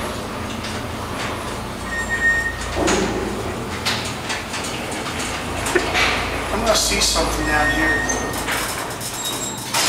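An Otis traction elevator door slides open in the Physics-Math-Astronomy Tower, a mechanical rumble and whir under a person's speech, with ambient hum and a few clunks as the door moves.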